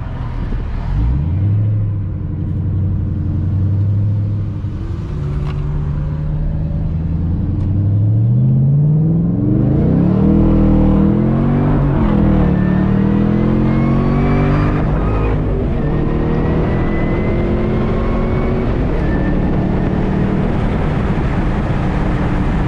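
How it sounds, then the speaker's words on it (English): Supercharged 2015 Chevrolet Camaro ZL1 accelerating hard through the gears, a loud close engine roar rising in pitch with each gear, dropping at the shifts, then climbing again, with supercharger whine on top. "You definitely tell the difference just in the way you hear the engine"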